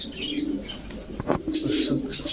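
Silver Sapchila pigeons cooing in a busy pigeon market, repeated low throaty coos close by amid crowd noise and a brief flutter or knock.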